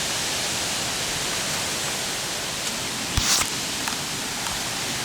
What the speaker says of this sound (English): Water dripping on the camera.